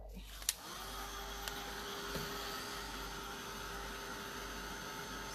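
Heat gun blowing on clear gesso, a steady whirring airflow that starts after a click and runs faint but continuous, with a couple of small knocks and no talk.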